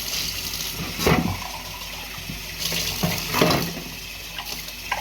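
Water running from a tap with splashing and clinking as dishes are washed, intermittent louder bursts of flow, close by with no talking.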